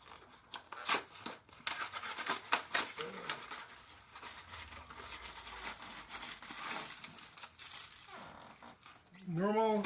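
Silver foil food packaging being torn and opened, with crinkly rustling and tearing bursts close by, mixed with faint talk and brief squeaky sounds.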